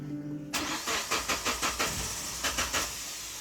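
A Suzuki Grand Vitara with fuel injection, converted to LPG, cranks with about a dozen rhythmic starter pulses after a quiet idle hum, then catches and settles into a steady running engine, close and loud with no speech.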